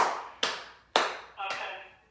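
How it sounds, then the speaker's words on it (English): Three sharp hand claps, spaced about half a second apart, close and moderately loud with a short ringing decay after each. "I'm gonna clap my hands on you"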